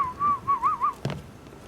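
A man whistles in imitation of a whistling arrow from Skyrim, a wavering tone that rises and dips several times in quick succession, followed by a short burst of noise, close and fairly loud.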